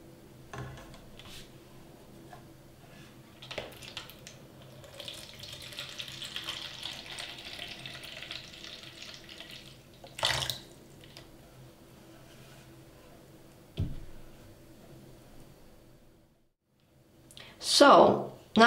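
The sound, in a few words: water poured into outer pot container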